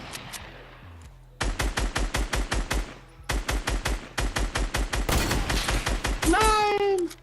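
Gunfire in the Fortnite video game: loud, rapid bursts of automatic fire with short pauses between volleys, ending in a squeaky, descending electronic effect.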